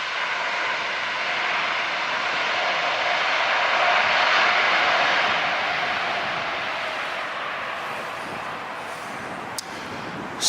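An airliner takes off at LAX airport, a loud, sustained engine roar that swells toward the middle and then slowly recedes into the distance.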